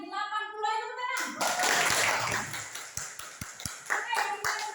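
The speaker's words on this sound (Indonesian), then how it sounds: "Ayo tepuk tangan." Children in a classroom clap their hands together in a brief burst of applause, with a few sharp individual claps trailing off at the end while a voice speaks over the start.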